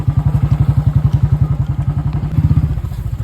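A Bullet motorcycle thumping along a narrow single-track path, its single-cylinder engine beating in a loud, rapid, even rhythm close by, with a slight rise in revs toward the end.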